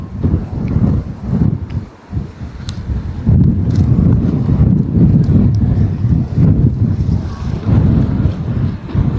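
Outdoor wind buffets the microphone near a fish and chip shop on a cycling trip between Blackpool and Liverpool, a loud, continuous low rumble that surges and dips, briefly easing before roaring back strongly.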